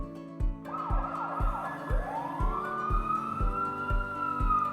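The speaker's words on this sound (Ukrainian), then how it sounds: "Звучить сирена. Отже, їдуть пожежники на машині прибуркувати вогонь." A loud wailing fire engine siren rises and sweeps up and down over a regular thumping beat, continuing steadily throughout.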